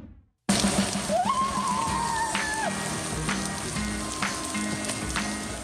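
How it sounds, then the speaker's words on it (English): Steady rain falls in Australia after bushfires, a dense continuous hiss of drops on surfaces that starts abruptly and holds at a constant level, with a faint bird call rising through it early on. "Well, finally, some rain."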